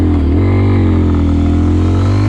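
A Beta dirt bike engine is held at full throttle in second gear, a loud, steady, close droning rev with a small dip at the start.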